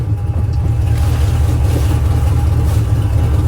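A car engine stuck at a high idle, a loud, steady low rumble close by that holds without revving, with no talk.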